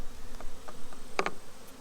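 Honey bees at a small nuc hive buzz faintly in the background, with one short, louder buzz of a bee passing close by partway through.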